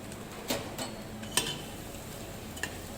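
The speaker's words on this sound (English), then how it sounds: "Mix it and switch off the flame." Aloo bharta being mixed in a pan after lime juice and coriander go in, a faint soft background hiss with a few sharp clicks of a spoon against metal, no voices.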